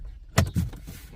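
An Infiniti FX37/QX70 car door shuts with two close, muffled thuds in quick succession, followed by faint mechanical settling and a quiet interior with no talking.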